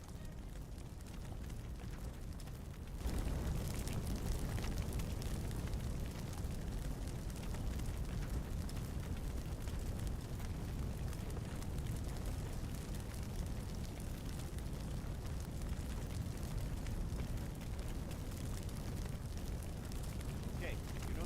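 Fire spreading in the Firefighting Simulator The Squad video game: a steady roaring, crackling rumble of flames that jumps louder after about three seconds and then holds at a constant, dense level throughout.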